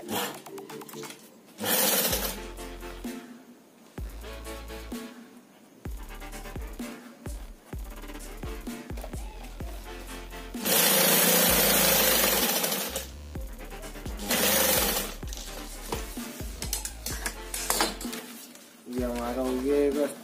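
Sewing machine stitching a line of seam along the top strap of a handmade cloth shoulder shopping bag, running in several loud bursts with short pauses between, and a voice talking in the gaps.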